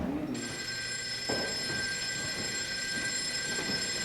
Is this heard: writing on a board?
no